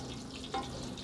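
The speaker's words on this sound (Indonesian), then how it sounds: "Ini juga sambil menggoreng tempenya." Tempeh sizzles and crackles quietly in hot oil, a soft steady frying hiss with one brief sharper spatter midway.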